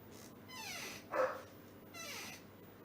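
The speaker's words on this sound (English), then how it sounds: "Just realized my dog was barking at some shit." A dog indoors gives a few faint, distant yelping barks and whiny yips, spaced apart over a quiet room background.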